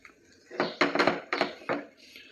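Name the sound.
stirring banana and wheat flour barfi mixture in nonstick pan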